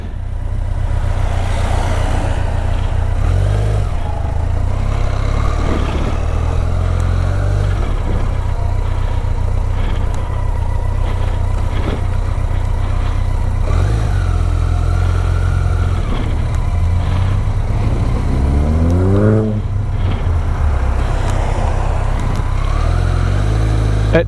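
A BMW motorcycle engine running steadily after starting, a loud continuous low rumble with shifting revs and a brief rising-then-falling sweep near the end.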